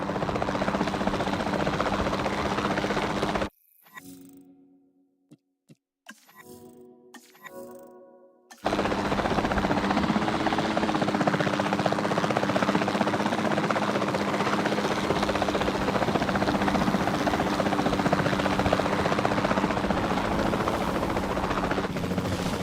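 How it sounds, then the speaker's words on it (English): Capture team helicopter in Jurassic World Evolution 2 whirs with a loud, steady rotor drone, broken for about five seconds by a quieter stretch of other game sounds before the heavy buzzing resumes and continues to the end. "Then the sensible thing is to take a capture team helicopter."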